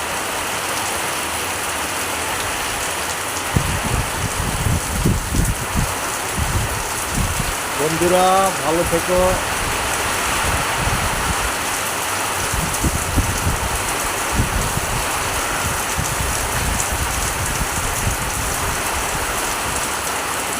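Heavy, unbroken rain pours down outside a house, a loud steady hiss with patter on nearby surfaces throughout; someone speaks briefly partway through.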